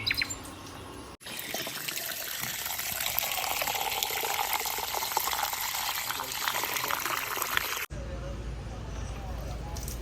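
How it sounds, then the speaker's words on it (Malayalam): Water runs steadily from a tap for several seconds as a broad, close rushing gush, starting and stopping abruptly, with faint background noise on either side. "കുറച്ച് വെള്ളം എടുത്തിട്ട് വരാം"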